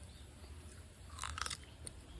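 Someone bites into a crisp fresh plum picked from the tree, giving a short cluster of sharp crunches near the middle, with a softer crunch just after, over a quiet low background.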